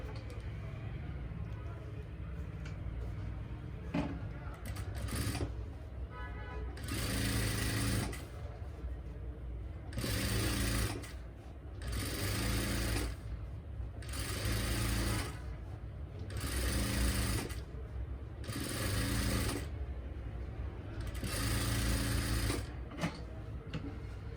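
An electric sewing machine stitches a salwar hem in repeated bursts of rapid, loud whirring and clatter, each run lasting a couple of seconds with short pauses between, with quiet talk in the gaps.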